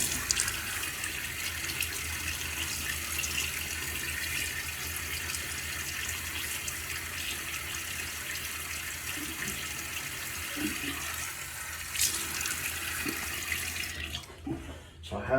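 A bathroom tap runs in a steady hiss of water into a sink for face wetting, continuous and close, cutting off near the end.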